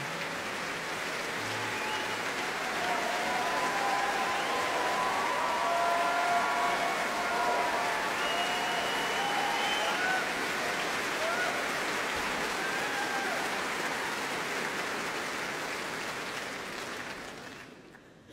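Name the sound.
audience applause at the Proms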